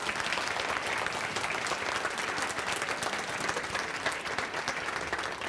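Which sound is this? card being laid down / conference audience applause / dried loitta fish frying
conference audience applause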